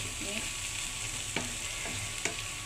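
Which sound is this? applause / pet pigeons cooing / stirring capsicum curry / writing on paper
stirring capsicum curry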